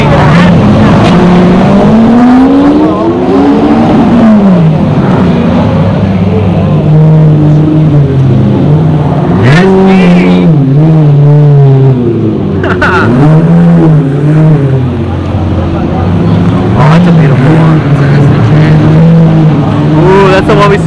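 A Mercedes-AMG car at a GT car show revs repeatedly, its engine pitch sweeping up and falling back in several loud surges, with people talking and shouting nearby.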